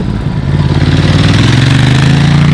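Ducati DesertX fitted with an HP Corse SP-1 EVO exhaust rolls along at low speed, its deep, loud, throbbing engine note steady and close throughout, no talk.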